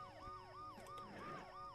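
Ambulance siren in the video game Dead Synchronicity, a loud wailing tone sweeping up and down in a steady repeating cycle, with no talk over it.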